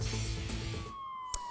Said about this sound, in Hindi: और अब सायरन बज गया है।